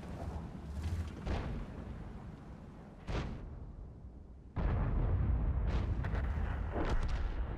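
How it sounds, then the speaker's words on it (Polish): Deep booming blasts and rumbling explosions from a game battle, with a heavy cannon shot from a Ho-Ri 3 Japanese tank destroyer and a sustained roar of battle noise afterward. "Zrobię jeden strzał w tej bitwie."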